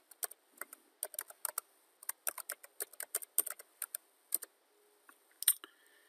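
Keys on a computer keyboard clatter in quick, irregular bursts of crisp clicks with short pauses, close and alone in a quiet room.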